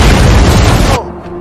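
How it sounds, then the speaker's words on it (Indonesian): An RPG explosion in a film bursts as a loud, broadband blast that roars for about a second, then cuts abruptly to a quiet, low hum. "dia melihat sebuah ledakan di belakang bukit"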